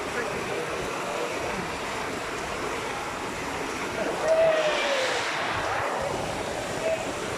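Strong floodwater current rushes in a broad, steady roar close by, mixed with wind buffeting the microphone, a brief swell midway, and faint human voices under the noise.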